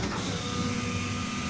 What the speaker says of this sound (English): here is the fuel pump priming